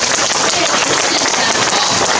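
Audience at a Douliu senior citizens' association event applauding Mayor Lin, dense loud clapping filling the whole stretch, close and sustained.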